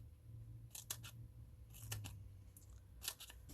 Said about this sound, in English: I'm going to cut little strips